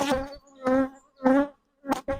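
Honeybees buzz close by around an open, queenless queen mating nuc. Four or five loud droning bursts rise and drop away in quick succession with brief gaps between them.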